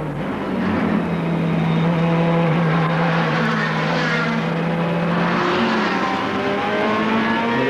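Ferrari race car engine during the 24 Hours of Spa endurance race, a loud sustained high-revving roar that climbs and shifts in pitch with gear changes, close and continuous without talk.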